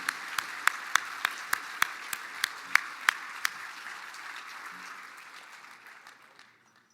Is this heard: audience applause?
yes